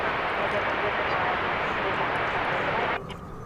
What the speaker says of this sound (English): United Flight 2655 to Denver, an Airbus A319, is